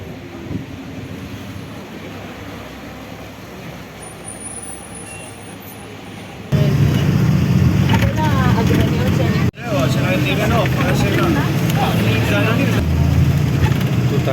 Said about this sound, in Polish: O, i przyjeżdża nasz śmieszny, krótki autobusik.